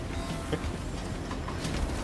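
Faint, low rumbling train running in the Stone to Space building game, a soft continuous rolling noise with a few light clicks and clacks scattered through it.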